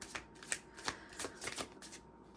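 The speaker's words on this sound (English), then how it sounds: "Let's pull some more cards here." Tarot cards pulled from a deck during a reading make a few soft, papery slaps and flicks in an uneven rhythm, each one brief and close in an otherwise quiet room.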